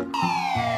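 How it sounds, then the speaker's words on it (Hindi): A toy ambulance gives off a loud, continuous electronic siren that glides steadily downward in pitch, sitting up front with no talking over it. "ओहो ये तो एम्बुलेंस है, चलो एम्बुलेंस को अभी ले चलेंगे"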